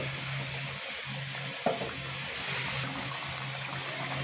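A curry of fish with stalks and potatoes, with tomato and broth added, sizzles steadily in a pan as a continuous bubbling hiss, with one brief clatter partway through and no talking.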